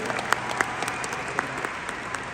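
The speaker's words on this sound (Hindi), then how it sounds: "तालियां बनती हैं, सिर्फ फॉरएवर की वजह से" An audience at a large company success-day event in Delhi claps steadily throughout, a dense even applause with scattered sharper claps and no voices over it.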